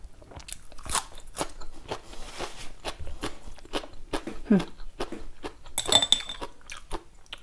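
Close crunching bites and chewing as stir-fried mixed seafood with holy basil is tasted, with light clinks of cutlery and dishes between the bites.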